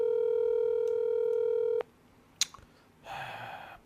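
A telephone handset gives a steady, loud dial tone for almost two seconds, then it cuts off, followed by a single short beep like a keypress and a brief burst of line noise.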